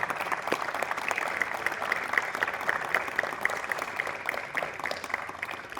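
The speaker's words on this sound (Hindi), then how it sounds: "इतनी सुंदर प्रस्तुति के लिए तालियां कमजोर थी, एक बार फिर से और जोर से।" An audience at an evening poetry recital for Kavyakumbha at NIT Rourkela applauds a performance, a soft and fairly distant bed of many hands clapping that holds steady throughout.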